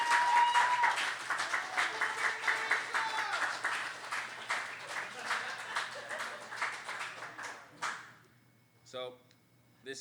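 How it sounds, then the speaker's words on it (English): An audience applauds a group of performers, a sustained burst of dense clapping that thins out and fades, followed by someone speaking over the quiet room. "Can we get a round of applause for these guys?"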